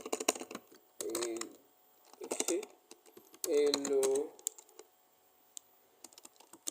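Rapid clicking of a computer keyboard runs throughout, close and fairly loud, while a person speaks a few words over the typing.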